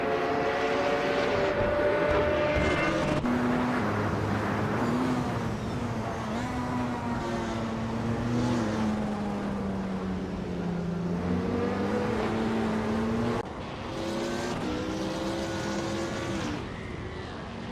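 Race cars in a racing video game roar steadily as a tight pack accelerates into the opening corners, with engine tones climbing and shifting across many overlapping cars, loud and continuous throughout.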